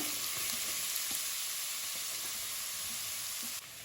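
Grated carrot fries in ghee in a pan for carrot kheer, giving a continuous soft sizzle and hiss close by, with occasional faint stirring and no talking.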